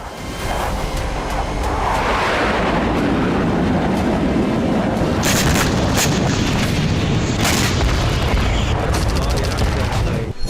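A heavy, continuous roar of explosions from bombs dropped by fighter jets over Syria's Tartus area, a dense sustained rumble with sharper blasts cracking through midway, loud and unbroken for about ten seconds.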